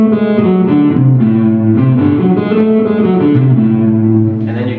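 An electric guitar with a distorted effects tone slowly climbs through the A melodic minor scale, two fingers per string, each note ringing loud and sustained into the next.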